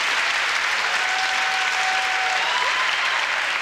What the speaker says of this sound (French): On les applaudit, le mérite grandement, ils sont extraordinaires.